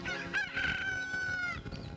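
Rooster crowing as a sound effect in a Tamil movie scene, one full drawn-out cock-a-doodle-doo call lasting nearly two seconds, close and clear over a faint background.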